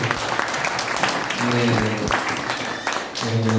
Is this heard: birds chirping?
no